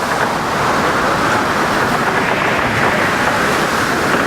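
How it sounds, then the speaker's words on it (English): Loud, continuous churning wash of waves surging against a vessel, a dense roar with wind mixed in. "As the waves started to crash over them, the boat started to rock"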